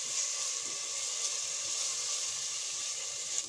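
A ginger, garlic, green chilli and cumin paste frying in a pan gives a steady, soft sizzle and hiss, close and even for the whole stretch with no voices.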